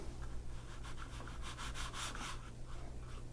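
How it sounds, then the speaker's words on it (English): A brush scrubbed back and forth across wet watercolour paint on paper to soften hard edges, giving a close, quiet rhythmic scratching over a steady low hum. "Scrubbing so I don't get hard edges."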